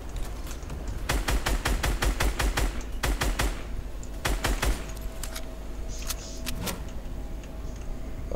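Rapid automatic gunfire from the video game Fortnite, in several tight bursts of quick shots, loud and close over a steady background hum, with scattered lighter shots near the end.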